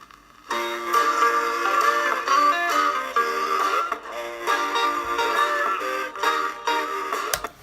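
A soul record plays in a warm, full band arrangement. The chords hit in a repeating pattern for several seconds.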